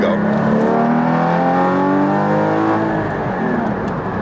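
A Porsche Cayman GT4 981 mid-engine car revs loudly and up close, its engine note climbing and falling in a continuous rising whine, with no other sound.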